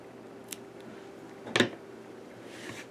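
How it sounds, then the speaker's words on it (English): Scissors snip through yarn while finishing a crocheted hexagon granny square: one brief, close, crisp cut stands out, with a fainter click earlier in an otherwise quiet room. "we can just snip it right off."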